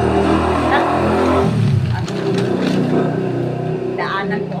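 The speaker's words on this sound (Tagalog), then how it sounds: "Daanan po ako ng tricycle." A motorized tricycle passes by outdoors, its engine revving and fading, with a person talking nearby over the noise.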